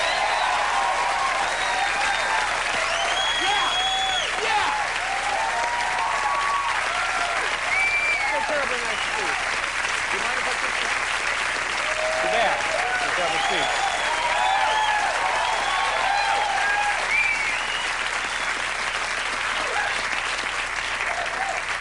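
A television studio audience roars with sustained, dense applause and whoops for actress Teri Garr's entrance, loud and steady throughout with no break.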